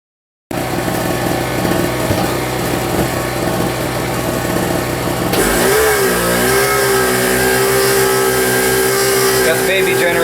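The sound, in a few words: small generator running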